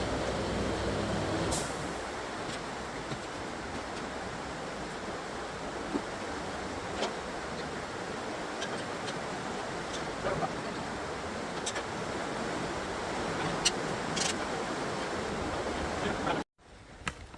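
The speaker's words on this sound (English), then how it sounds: "So the rain slowed down a little bit now" Heavy rain drums steadily on a workshop roof during a vehicle rebuild, a dense, unbroken hiss that holds at an even loudness for most of the stretch, with a few faint knocks on top, before cutting off abruptly near the end.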